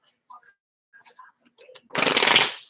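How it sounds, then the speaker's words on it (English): Quiet, scattered speech gives way to a brief, dense riffle of a deck of cards being shuffled up close. "One more shuffle."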